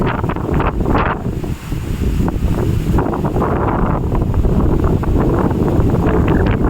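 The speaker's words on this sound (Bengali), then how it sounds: "সুন্দরবনে ঝড় হচ্ছে" A Sundarbans storm blows hard beside the river: unbroken, loud wind roar and mic buffeting with a rushing, wave-like texture, barely dipping once near the start, and no clear voices.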